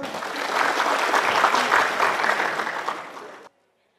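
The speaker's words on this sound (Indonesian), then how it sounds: "Tepuk tangan dulu." Applause from the audience at a Balinese quiz semifinal, building quickly into steady dense clapping that holds, then cuts off abruptly to silence.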